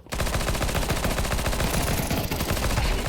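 Rapid automatic gunfire from Counter-Strike 2, loud, dense bursts of shots rattling continuously for about three seconds with no pauses.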